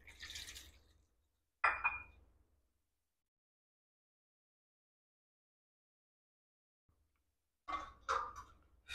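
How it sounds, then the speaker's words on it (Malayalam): Water poured into a cooking vessel to rinse it while making tapioca biryani, two short splashing pours, a long silence, then two more pours near the microphone. "കുറച്ച് വെള്ളമൊഴിച്ച് ഈ പാത്രം കഴുകി ഒഴിക്കുക."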